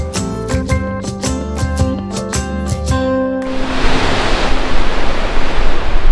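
Ocean waves wash steadily along a coastal trekking trail on the Yangnam shore near Eupcheon harbor in Gyeongju, a loud broad rushing surf that takes over after a stretch of music.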